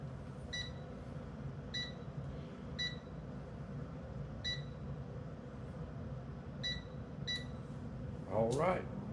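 Air fryer timer being set while cooking fried chicken, giving a series of short, evenly spaced electronic beeps over a steady fan hum and room noise.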